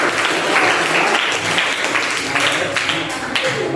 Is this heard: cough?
no